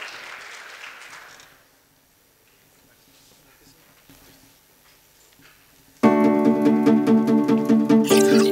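Audience applause welcoming a panel at an anniversary event fills the opening moments, then fades out within about two seconds. A quiet stretch follows, and loud music starts near the end.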